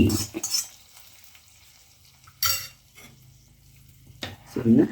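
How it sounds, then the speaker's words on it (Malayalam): Ripe mango curry stirred in a pot, a few separate bursts of spoon scraping and clinking against the pot with quiet gaps between, close by, a faint voice briefly present. "ഇളക്കി കൊടുക്കുക"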